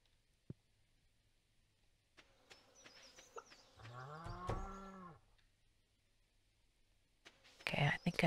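Cows mooing on a farm in Stardew Valley, a long low moo in the middle with brief game sound effects and chimes scattered around it, fairly close and clear.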